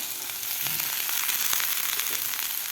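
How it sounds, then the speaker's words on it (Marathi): Capsicum, tomato, carrot and peas sauté together in a pan, crackling with a dense steady sizzle and scattered pops, with a spoon scraping now and then, close and continuous, with no voices. "आता आपल्याला हे भाज्या व्यवस्थित परतून घ्यायच्या आहेत"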